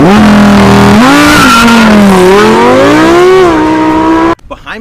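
A Lamborghini Huracan using launch control in Corsa mode roars off the line, its loud, close engine note climbing steadily through the revs for about four seconds before cutting off abruptly.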